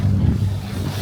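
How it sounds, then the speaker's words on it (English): Steady low wind rumble buffeting the microphone outdoors, continuous and fairly loud throughout with no voices. "Little windy out here."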